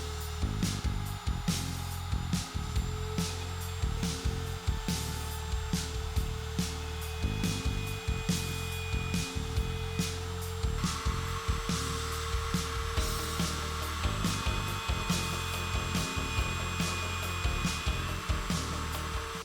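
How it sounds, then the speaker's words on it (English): A horizontal mortiser cuts mortises for floating tenons in wood, including the end grain of a rail. Its motor runs loud and steady the whole time, with repeated bursts as the bit plunges and sweeps through the workpiece. "I'm going to use my horizontal mortiser."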